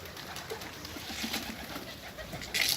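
Soft pigeon cooing in a loft, a low, steady murmur with faint rustling, and a brief burst of fluttering near the end.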